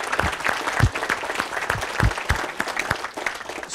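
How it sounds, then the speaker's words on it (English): Brief round of applause from an audience at a school district's educational visioning session, scattered claps filling a few seconds at moderate volume with little talk. "give them a round of applause"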